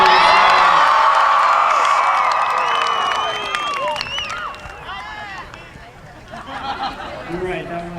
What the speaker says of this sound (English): Seniors, let's hear a loud cheer now.